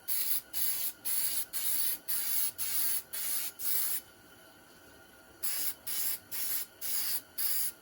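A spray can lays primer onto a rusty surface in short, evenly spaced hissing bursts, close and fairly loud. After a brief pause the bursts pick up again in the same steady rhythm.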